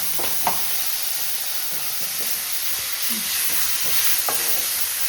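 Squid fry sizzling steadily in a hot pan, with intermittent scraping stirs of a spatula cutting through the continuous frying hiss.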